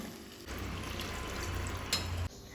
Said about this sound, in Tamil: இப்போ தண்ணி ஊற்றலாம்